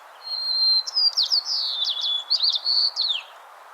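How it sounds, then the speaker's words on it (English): White-crowned sparrow song: a series of clear whistles followed by buzzy, rapidly warbled trills, close and fairly loud over a steady low background hiss, with no talking. "But the loud bird is the white-crowned sparrow."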